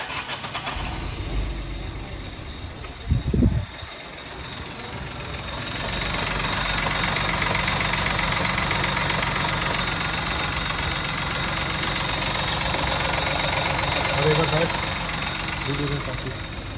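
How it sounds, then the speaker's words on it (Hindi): A Citroen C3 CNG car idles with a persistent abnormal engine noise, a steady mid-level rumble and hum that continues throughout, with a brief thump near the start and voices faintly in the background. "एक इंजन नॉइज़ है जो अभी भी आ रही है स्टार्ट गाड़ी पे।"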